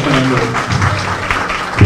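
Applause at a radio anniversary celebration: a dense, steady wash of clapping runs throughout, with voices and some tonal sound mixed underneath.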